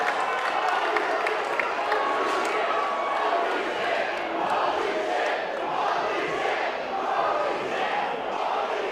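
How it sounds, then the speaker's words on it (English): A wrestling crowd roars and chants in a broad, continuous wash of voices that swells and dips in waves, moderately loud and heard from within the arena. "The crowd, they're into it"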